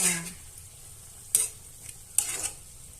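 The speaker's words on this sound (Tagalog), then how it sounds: "Kunting halo na lang meses at yun ay luto na." Chicken adobo with string beans being stirred in a hot, sizzling pan, a faint steady frying hiss broken by three sharp scraping clinks of a utensil against the pan.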